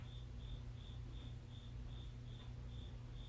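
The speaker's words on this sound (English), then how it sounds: "Listen to the cricket. Let me know if you can hear it." A single cricket chirps in a steady rhythm, about two evenly spaced chirps per second, loud and close over a low background hum with no talking.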